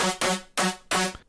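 A saw wave synth lead in Vital with no post effects plays three short, buzzy notes with bright harmonics in a quick pulsing rhythm, dry and fairly quiet.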